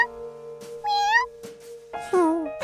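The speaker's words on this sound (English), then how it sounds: "His job was to watch Professor Wiseman's new kitten, Lucky," A cartoon kitten gives several high, wavering meows in short bursts, clear and close, with a few brief noises between them and no talk.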